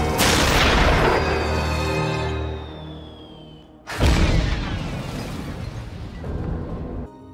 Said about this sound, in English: Boba Fett will ambush him, landing nearby and firing one of his jetpack rockets